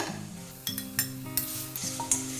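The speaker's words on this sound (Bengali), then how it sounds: "এটা খুব ভালো করে ভেজে নেব যতক্ষণ এর থেকে তেল ছাড়ছে" Tomato frying with Kashmiri chili powder in a pan, a steady close sizzle broken by several sharp clinks and scrapes of a utensil stirring against the metal, with no voices.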